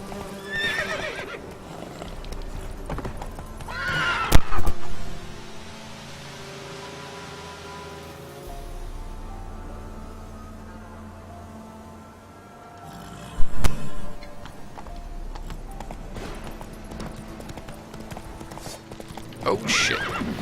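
Horse hooves clip-clop steadily in Witcher 3, with loud neighs and whinnies bursting out around 4 and 14 seconds over a low ambient game background.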